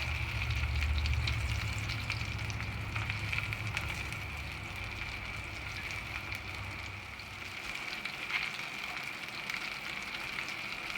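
Chicken wings browning in a frying pan for keto buffalo wings, a steady close sizzle and crackle of hot oil throughout, with a louder low rumble in the first seconds that eases off.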